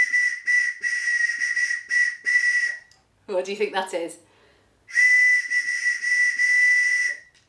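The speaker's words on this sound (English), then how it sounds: "Well done if you guessed it was the bird whistle" Bird whistle blown in short, bright trilling toots, loud and close, in two runs separated by a child-friendly spoken question.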